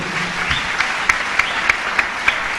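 A church congregation applauds to acclaim the word of God, a sustained crowd of clapping hands with sharper claps recurring in a steady rhythm roughly every third of a second, fairly close and alone without talk.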